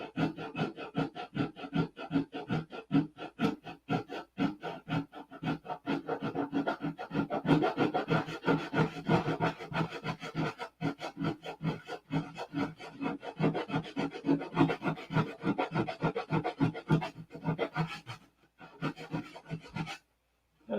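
Continuous rhythmic rasping of abrasive grit sanding a P-47 model, steady close strokes with brief pauses near the end, no talking.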